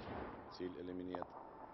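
A sniper rifle gunshot in the Medal of Honor video game, a heavy booming report followed by a voice speaking over game ambience.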